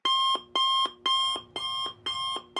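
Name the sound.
alarm clock blaring, DDLC SpongeBob parody video game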